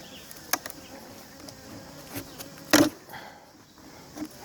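Honeybees buzz around an opened beehive during an inspection, a soft continuous hum broken by a few sharp close passes and clicks of handling, with no talk.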